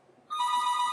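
A landline telephone rings, starting abruptly with a bright electronic ring tone that holds steady and loud after a brief quiet moment.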